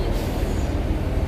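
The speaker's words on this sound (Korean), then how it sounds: "타고 온 기차가 절로 지나갑니다." A train rolls past near the railway line in Vejle, Denmark, giving a steady, loud rumble of wheels and carriages with no voices.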